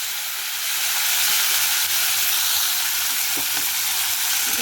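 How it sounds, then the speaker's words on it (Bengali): Potatoes frying with cumin in a pan, a loud, even, hissing sizzle that builds in the first second and holds steady, with a faint stir or two and no talking. "জিরাটা একটু ভাজা ভাজা হয়ে গেলে আমি আলুটা দিয়ে দেবো"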